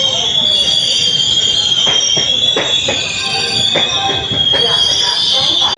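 A passenger train pulling out of Thrissur station, heard as a loud steady rumble with rhythmic wheel clacks and a sustained high metallic whine or squeal running throughout, close and continuous.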